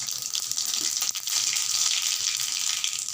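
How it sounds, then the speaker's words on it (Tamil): A continuous bright sizzle of mustard seeds frying in hot oil, steady and close, with no voices. "ரெண்டு ஸ்பூன் எண்ணெய் விட்டுருக்குறேன் இப்போ கடுகு போட்டுக்கலாம்"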